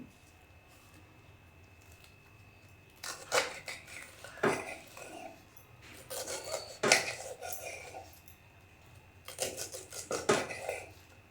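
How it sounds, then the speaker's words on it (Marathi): Taro leaves are chopped with a knife on a board for a thin aluchi bhaji, in three short bursts of close, rapid cutting separated by quiet pauses. "अशीच आता सर्व भाजी मी कापून घेते"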